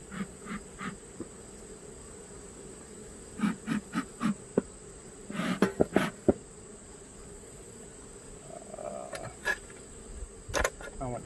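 Honeybees hum steadily around an open Langstroth hive during a mid-August inspection, a continuous close insect drone broken by short bursts of louder buzzing as individual bees pass near.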